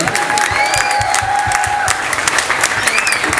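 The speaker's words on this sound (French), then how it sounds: "Une salve d'applaudissements pour nos trois animateurs, Fabien, Richard" Crowd applauding the three hosts at the Florangeoise 2023 event in Florange: loud, dense clapping with some cheering, a thin whistle-like tone running through the first half.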